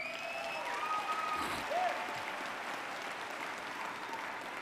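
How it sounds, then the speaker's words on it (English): Applause from the audience at a business training event in Tampa, a faint, steady wash of distant clapping that continues for the whole stretch, with a few brief squeaks and tonal sounds over it. "Can we give a big round of applause to Mr. Thomas Felder?"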